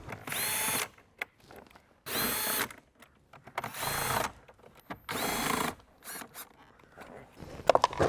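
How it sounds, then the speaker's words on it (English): A power tool whirs in four loud bursts of about a second each, separated by short pauses and a few small clicks, as it backs out 10mm bolts from the interior trim of a Toyota Tacoma. "you can either use a ratchet or you can use a power tool like this"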